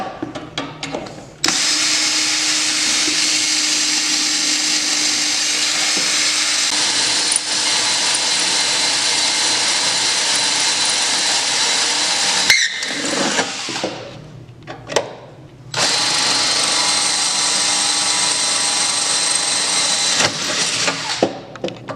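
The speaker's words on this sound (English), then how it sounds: "Now you can finish drilling the rest and use the short rivets in the rest of these holes." A power drill whirs steadily at close range, drilling holes to rivet a metal bulkhead brace on a Ski-Doo Gen4 snowmobile, stopping briefly twice before starting up again.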